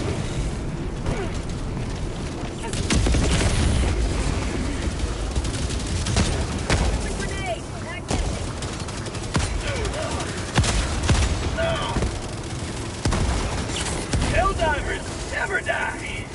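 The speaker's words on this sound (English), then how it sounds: "Firing orbital strike." Orbital strikes and gunfire in the video game Helldivers 2, with dense bursts of shooting, booming explosions and mechanical clatter running continuously, loud and close, while voices talk over the action.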